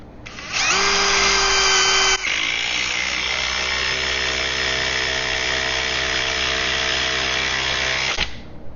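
A Ryobi P239 brushless impact driver runs on an older 3 amp-hour battery, driving a 3-inch lag bolt into wood in one loud continuous buzz of about seven seconds, its pitch dropping as the hammering engages, then stopping abruptly.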